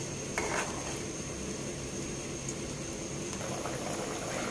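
Pork dinuguan simmers and bubbles in a pot with a steady, close boiling sound, broken by a few brief clinks of stirring.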